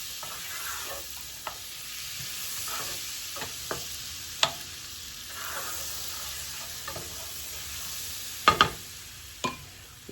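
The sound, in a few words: butter melting and sizzling in a pan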